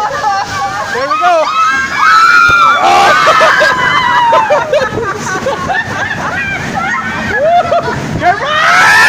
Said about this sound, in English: Oh, it's a big waterfall.